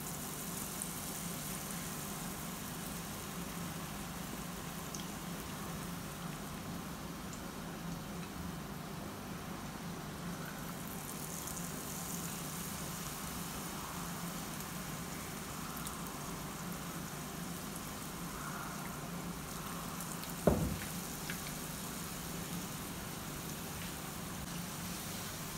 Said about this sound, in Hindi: मिर्ची मेरा फ्राई हो रहा है, इसी तरह मैं सारा मिर्ची फ्राई कर लूँगी।